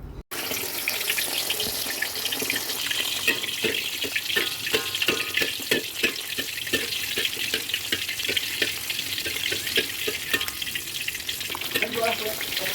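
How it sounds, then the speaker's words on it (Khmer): Fish frying in hot fat in a pan, a dense, continuous crackling sizzle heard up close at steady loudness, with occasional faint utensil sounds. "ដាក់ខ្លាញ់ចៀនត្រីម្ដងបងប្អូន"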